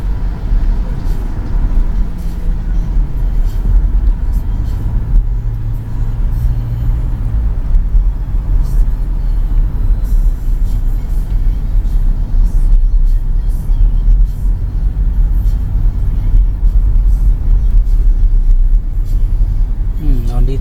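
Steady roadside traffic rumble in Batam, Indonesia, with many cars and heavier vehicles passing continuously nearby, a brief air-brake hiss partway through, and people talking over the constant engine noise.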